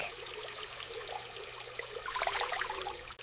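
A tap runs as a child rinses hands at a school sink, producing a soft, steady trickle and splash that grows a little busier near the end, with no talk.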